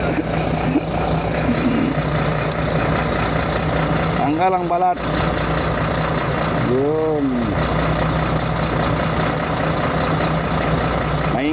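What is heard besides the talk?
noisy truck engine idling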